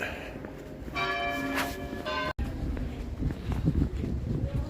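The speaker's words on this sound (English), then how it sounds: "I can hear the bells ringing." Church bells ring with bright, sustained tones on the Camino Francés between Agés and Burgos in winter, then fade into outdoor ambience and footsteps.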